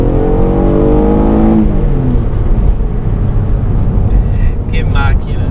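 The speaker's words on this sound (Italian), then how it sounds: "La risposta dell'acceleratore, appena lo sfioro" An Alfa Romeo 147 GTA V6 engine rises in a quick throttle blip, a loud, close harmonic rev that climbs and then falls away to a steady idle rumble as a voice talks over the rest.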